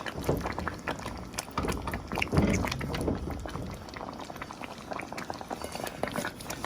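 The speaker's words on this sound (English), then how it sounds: "sizzles in its own juices" Steady crackling sizzle of stewed chicken frying in its own juices, dense popping and spitting throughout at close range, with no voices.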